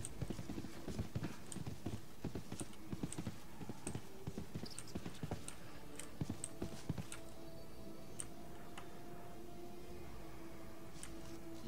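Horse hooves clip-clop in the video game RIFT as a mount climbs a hill, a steady rhythmic clatter of close, crisp steps that slows and thins toward the end.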